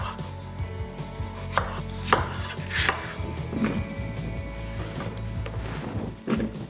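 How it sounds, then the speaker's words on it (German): Knife dicing potatoes into cubes on a cutting board, a run of quick, even chopping taps close up with no talking. "Jetzt würfeln wir."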